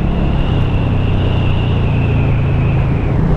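A Suzuki M1800R Boss large cruiser motorcycle engine gives a loud, steady rumble with a low, throbbing, knocking pulse, running continuously and close by, with no talking.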